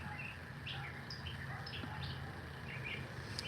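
Birds chirp and sing outdoors in short, scattered high calls over a steady background hum, fairly faint and continuous.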